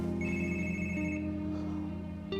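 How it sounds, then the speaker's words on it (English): A phone rings with an incoming call in a TV drama scene, a steady electronic ringtone tone held over a low background hum, with a short click near the end. "Another phone call"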